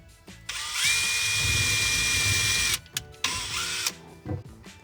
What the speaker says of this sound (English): we can go ahead and drill our pilot hole.